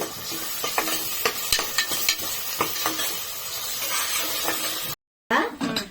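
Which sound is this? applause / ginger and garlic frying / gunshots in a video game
ginger and garlic frying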